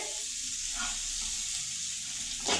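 Onions, chana dal and green chilies sautéing in a pan, giving a steady soft sizzle and frying hiss throughout, with a brief stir or scrape near the end.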